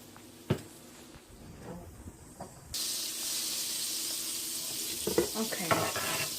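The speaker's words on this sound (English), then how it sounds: "my butter here is heating up and it's starting to simmer down" Butter melting and simmering in a skillet gives a soft steady hiss that jumps to a louder, bright sizzle partway through, with a few clinks of cookware on top.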